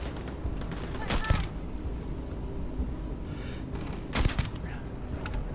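Gunfire in the video game Starfield: two short, sharp volleys of shots about three seconds apart, standing out over a steady low game background.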